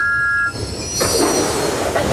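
A steam engine, Thomas the Tank Engine, rolling in to arrive, with loud wheel squeal and continuous rumbling railway noise up close.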